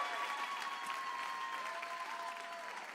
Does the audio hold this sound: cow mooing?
no